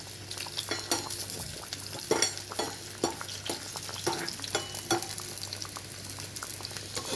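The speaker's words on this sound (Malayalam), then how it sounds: "നമുക്കിങ്ങനെ ഒന്ന് പയ്യെ ഇളക്കി കൊടുക്കാം കേട്ടോ." Onions frying in oil for a home-style fish curry, stirred slowly, give a continuous close sizzle with soft scraping and light utensil taps at an unhurried pace; no voices.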